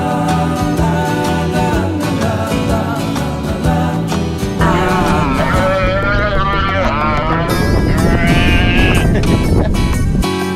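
Sheep bleat repeatedly and loudly on a farm in Uruguay, their calls layered over a dense, continuous background noise throughout.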